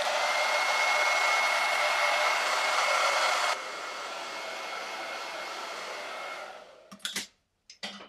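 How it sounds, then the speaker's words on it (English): A hair dryer blows steadily and loudly, drying chalk paste on a Chalk Couture tiki sign, dropping to a lower setting partway through before switching off with a few brief clunks at the end. "so I'm going to dry this really good"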